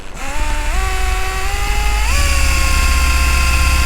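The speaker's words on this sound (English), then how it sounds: "let's see if I can get a good start here and drill through this" Power drill boring through a piece of aluminum a little over an inch thick, with no lubrication: a loud, close motor whine stepping up in pitch as it bites and speeds up, grinding on steadily.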